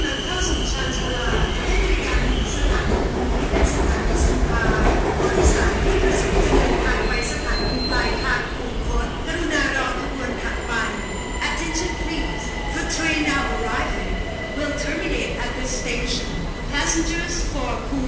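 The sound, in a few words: BTS Skytrain arriving at the platform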